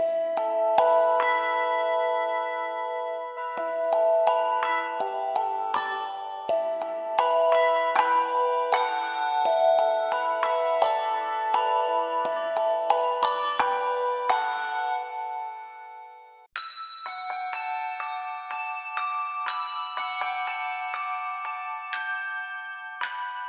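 Handbells from a Kontakt virtual instrument with a phaser effect play a steady, bright melodic run of overlapping struck tones that pause briefly, then resume with sustained ringing notes.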